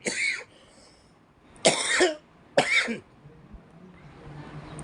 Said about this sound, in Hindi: मेरे को खांसी इसलिए आ रही है